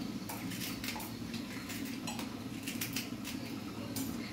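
A knife cuts dry coconut into pieces for Nellore fish curry, making a series of close, crisp taps and scrapes in an irregular rhythm over a steady low background hum, with no talking.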